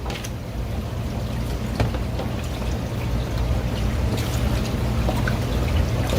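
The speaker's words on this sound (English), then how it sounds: "we have a little bit of water coming out here in a second" Water from a calcium reactor filled with dead coral media pours steadily into a cup, a close, continuous trickle and splash with no talking.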